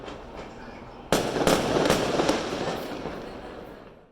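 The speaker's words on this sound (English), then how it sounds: "Christmas night they set off fireworks" Christmas-night fireworks in Medellín, Colombia burst across the sky in a quick run of sharp cracks and bangs. They echo over a steady outdoor rumble and trail off into a fading roar.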